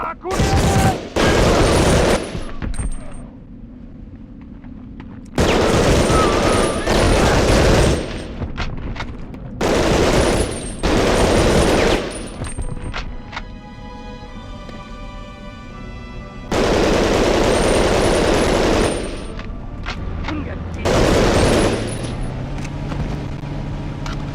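Machine gun fire in a video game, loud bursts of rapid shots in several long stretches broken by quieter gaps with engine-like rumble and booms, sounding close and dominant.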